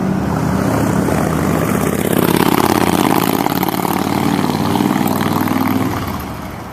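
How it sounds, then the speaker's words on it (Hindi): A motorcycle engine drones steadily on a village road, a continuous loud hum that swells slightly as it comes closer and then eases off toward the end. "मोटरसाइकिल पर आता है।"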